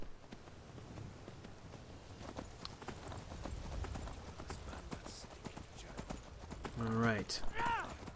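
Horse hooves clip-clop at a steady riding pace in the video game Skyrim, fairly faint under someone talking briefly, with a short whinny-like call near the end.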